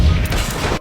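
A hydrogen explosion from the film The Martian hits as a short, very loud boom with a dense low-end roar that cuts off abruptly.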